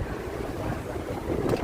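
Gusty wind rushes across the microphone on a Manhattan street near Hudson Yards in New York City, a continuous broadband roar with no voices.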